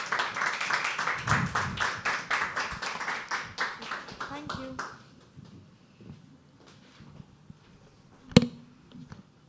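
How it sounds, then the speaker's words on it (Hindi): An audience at a live poetry open mic applauds a poet coming on stage, loud dense clapping for several seconds that fades to scattered claps and low murmuring, then one sharp bump. "जोरदार ताली हो जाए ध्रुवी के लिए."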